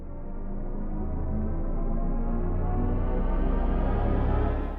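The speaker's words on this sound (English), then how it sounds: "That's the sound of BMW's Vision M Next," Synthesized driving sound of the BMW Vision M Next electric concept car, composed by Hans Zimmer: a steady, loud, layered tonal hum with rising harmonic drones that swells gradually and holds throughout, without speech.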